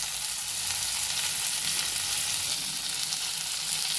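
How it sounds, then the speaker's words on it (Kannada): Fish coated in green masala fries in a pan, giving a steady, close, even sizzle with no voices. "ಎರಡು ಕಡೆ ಚೆನ್ನಾಗಿ ಫ್ರೈ ಆಗಬೇಕು."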